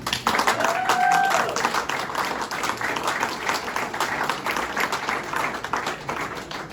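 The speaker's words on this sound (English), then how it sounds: "if you could give yourself a round of applause" Audience applause fills the room at an anniversary speech: a dense, steady wash of many hands clapping, loudest at the start and then holding evenly throughout.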